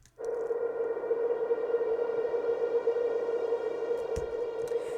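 A sustained airy, atmospheric synth drone holds one steady pitch with rich overtones, starting abruptly and continuing unchanged and alone for several seconds.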